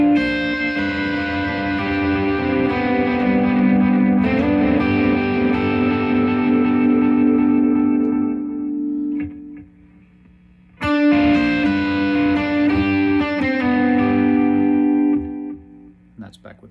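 Electric guitar run through a digital delay pedal, sustained chords ringing out with modulated, wavering repeats that trail and decay, a brief pause, then another strummed chord blooming with the same wobbling echoes, loud and close.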